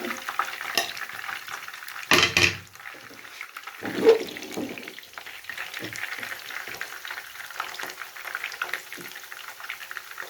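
Chicken pakoras fry in oil over a low flame with a continuous bubbling sizzle, broken by a few louder clatters and stirs nearby, with faint voices in the background.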